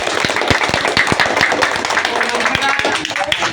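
Students in a classroom clap together during a science practical, a quick scatter of sharp handclaps over steady chatter and voices.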